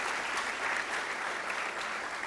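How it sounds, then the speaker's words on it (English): An audience at a university math fair gives a sustained round of applause for a volunteer coordinator and his team, a steady, even clapping wash at moderate loudness throughout. "So please give him a special round of applause"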